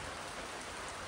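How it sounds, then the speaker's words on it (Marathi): Steady, dense rain pours down without a break, evenly and close by, at a khillar bullock-cart race ghat. "पण आमची इथं पाऊस पडतोय राव"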